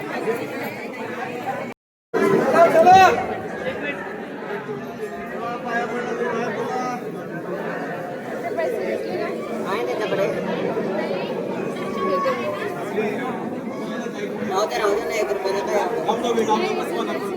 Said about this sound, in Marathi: सकाळी आठच्या वेळेला आणि प्रचंड अशी गर्दी झालेली आहे